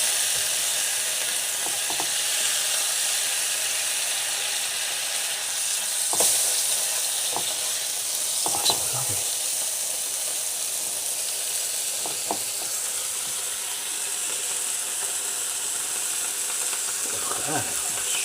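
A mushroom burger fries and crisps up in a pan, giving a continuous sizzle with occasional clinks and scrapes from utensils scattered throughout.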